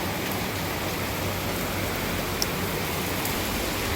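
Steady rain falling outdoors in Hong Kong after a stormy spell, a continuous even hiss of drops on surfaces with a faint tap or two, no voices present.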